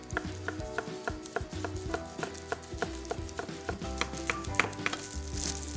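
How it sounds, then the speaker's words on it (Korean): A knife slices a thin folded egg omelette into fine strips on a cutting board, a run of quick, evenly spaced close taps with a low hum beneath. "그리고 이대로 반 썰어서 포개 놓고 얇게 채 썰어 준비해 주세요"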